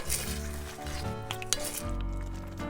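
Tomato sauce, water, zucchini and mini carrots stirred together in a pan make a low simmering sizzle with a few light utensil clinks and scrapes, close and continuous, with no talking.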